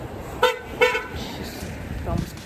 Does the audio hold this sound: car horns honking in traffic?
yes